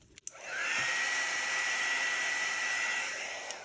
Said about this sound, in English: I will use my heat embossing tool first